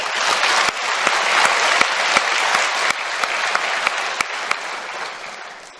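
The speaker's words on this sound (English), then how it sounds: "So can you join me with a great grand applause for Bahrain?" A conference audience gives a long round of applause for Bahrain, dense steady clapping from a large crowd with a few sharp individual claps standing out, lasting several seconds and tapering slightly at the end.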